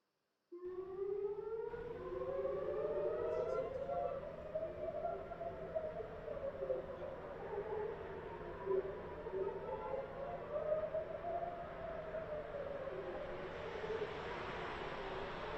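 A civil defense air raid siren wails over Tel Aviv, its tone rising and falling in long sweeps that hold steady and sound distant through the whole stretch.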